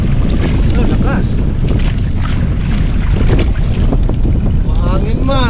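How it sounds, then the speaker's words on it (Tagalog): Strong wind roars steadily across the microphone on a small fishing boat at sea, loud and constant throughout, with water noise beneath and people talking briefly over it. "Mahangin man. Lakas ng hangin."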